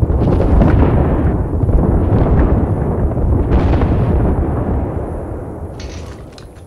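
An explosive charge going off in a multiplayer shooter game, a heavy, rumbling blast with rolling booms that stays loud for several seconds before slowly fading.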